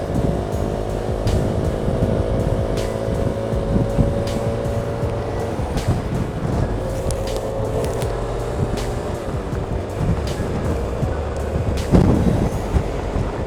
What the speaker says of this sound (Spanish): Cómo se escucha la moto, el sonido de la moto.